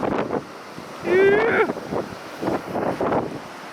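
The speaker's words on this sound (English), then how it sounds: "freaking hectically windy out there" Strong gusty wind from a 60-knot gale at the coast in Jeffreys Bay buffets the microphone with surf rumbling behind, while a voice briefly calls out over the roar.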